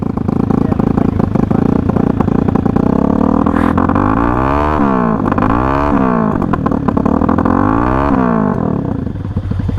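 Road motorcycle on a ride from Hill End to Bathurst through Sofala, loud and close, pulling away with several rising revs through the gears over a continuous engine roar.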